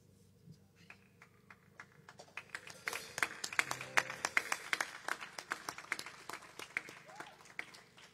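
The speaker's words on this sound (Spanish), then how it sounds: "Quiero pedirles un fuerte aplauso" Scattered, fairly sparse clapping from a small audience at an online tribute concert of nostalgic music, building after a quiet start and holding as uneven, distinct hand claps for about seven seconds.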